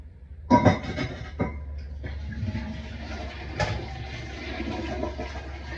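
A newly installed toilet being flushed after a cast iron flange repair, a sharp clunk of the handle and a rush of water, then a steady hissing refill of the tank.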